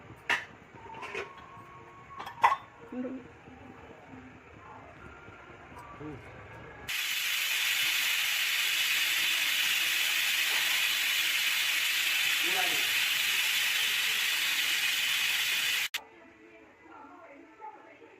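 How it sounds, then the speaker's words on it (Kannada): Pressure cooker on the stove with country-style chicken curry (nati koli bassaru) inside, releasing a loud, steady hiss of steam for several seconds that cuts off abruptly, between quieter stretches of kitchen clatter and talking. "ಮುಚ್ಚಳ ಮುಚ್ಚಿ ಒಂದು 3 ವಿಜಲ್ ಕೂಗಿಸ್ತೀನಿ."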